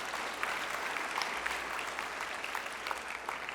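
A church congregation claps together in a steady, even wash of applause, moderately loud and sustained throughout without a break.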